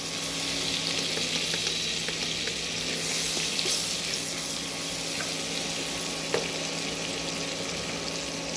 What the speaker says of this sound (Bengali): কড়াইটা গরম হয়ে গেছে, একটু সামান্য বাটার দিয়ে দিলাম। এর মধ্যে একে একে গোটা গরম মশলা, এলাচ, দারচিনি, লবঙ্গ,